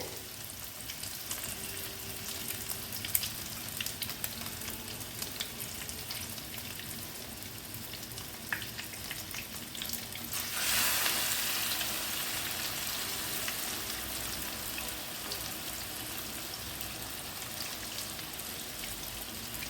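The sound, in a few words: chicken burger patties frying in a pan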